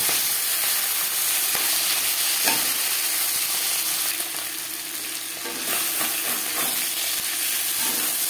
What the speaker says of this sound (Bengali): মাছের মাথা ভাজা হয়ে গেছে